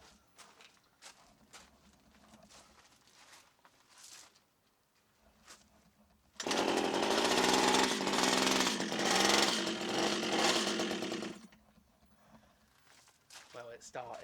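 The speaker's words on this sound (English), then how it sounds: "Well, it started, didn't it now? But did you hear all that clankety clankety?" Gas hedge trimmer with a faulty clutch starting up after several pull attempts, then running loud for about five seconds with a harsh, rattling clank before cutting out, with talk before and after.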